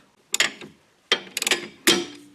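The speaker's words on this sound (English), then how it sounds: "I'm going to take the strut spreader tool off" A strut spreader tool being pulled off an Audi B8 (2009-2016) front strut gives three short bursts of rattling ratchet-like metallic clicks, close and fairly crisp, with quiet gaps between and no talking.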